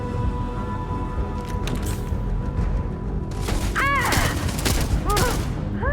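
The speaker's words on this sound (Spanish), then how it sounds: "Estoy escuchando disparos más. Más disparos." Gunfire in the video game Starfield, several bursts of shots and booming impacts over a steady rumbling game soundtrack, loud and close, with sharp ricochet-like whines near the end.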